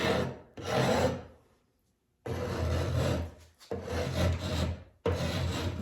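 Scraping across a saltwash paint finish on wooden furniture, layered green and black paint: long rasping strokes in four close, loud bursts separated by short pauses, with no talk.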